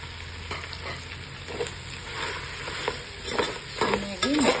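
Fried onions stirred into mutton biryani in a pot, a soft sizzle with scraping spoon strokes against the metal, close and moderately loud.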